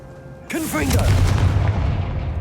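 A Confringo spell cast in Hogwarts Legacy, a sudden loud blast with a quick chirping magical flourish and a rumbling low tail that fades over about two seconds, heard close up.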